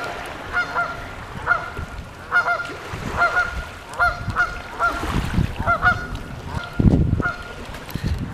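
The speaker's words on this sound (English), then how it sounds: "go attack those geese for me" Geese honk repeatedly in a rhythmic series of nasal calls over steady background rumble, with a louder thump of noise near the end.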